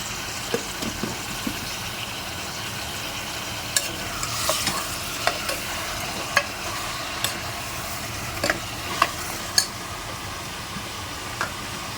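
Mutton frying with onions sizzles steadily in a pan while a spoon stirs through it, scraping and clinking at irregular moments over the constant hiss.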